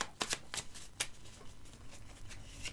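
Playing cards handled during a card reading, with quick papery snaps and flicks, a few sharp slaps among soft shuffling rustles, close and quiet.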